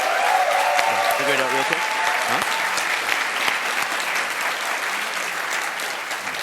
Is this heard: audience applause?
yes